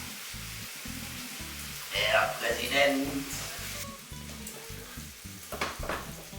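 Food sizzling in a preheated frying pan, a steady crackling hiss running throughout beneath someone speaking German and a rhythmic background hum.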